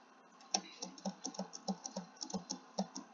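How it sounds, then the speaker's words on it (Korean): A computer keyboard space bar is pressed repeatedly while playing a jump-and-dodge game, about a dozen crisp, close clicks in an uneven rhythm over quiet background. "스페이스를 누르고 있거든요"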